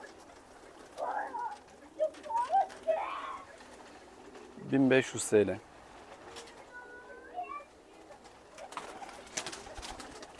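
Pigeons of mixed breeds coo in soft, throaty bursts, with one louder close call in the middle, while someone talks nearby.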